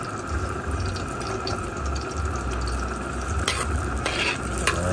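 Garlic and ginger sautéing in three tablespoons of oil in a pan for a native chicken dish, a steady close sizzle with spatula stirring and scraping, no talk.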